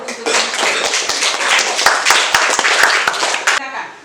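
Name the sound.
applause from the class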